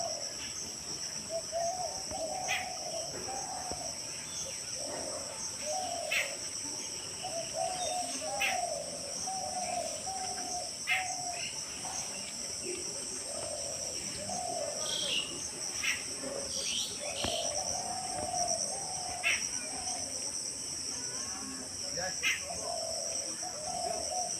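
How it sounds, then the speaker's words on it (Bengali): Steady insect trilling fills the background while repeated bird calls sound all around, some cooing, at a moderate distance. "আর চারিদিকে পাখির কলরব"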